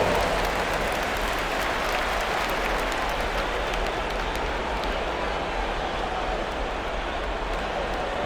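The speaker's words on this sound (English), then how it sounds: "Give yourself a round of applause." Sustained arena crowd applause during a timeout at a Knicks vs Celtics 2025 NBA playoff game, a dense steady roar of clapping and cheering that holds loud and unbroken throughout.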